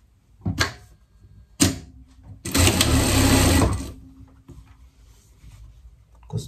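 A sewing machine stitches fabric pieces of a jacket together in one loud, rapid burst of about a second and a half. Short clunks of the fabric being handled come before it, and a quieter hum follows.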